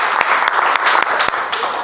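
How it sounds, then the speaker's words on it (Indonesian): Schoolchildren in a classroom clap their hands together as a group, a quick, loud run of sharp claps that bunch into a few strong beats. "Oke, bagus. Tepuk tangan anak-anak."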